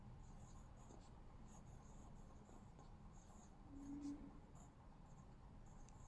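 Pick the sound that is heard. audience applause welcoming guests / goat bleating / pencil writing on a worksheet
pencil writing on a worksheet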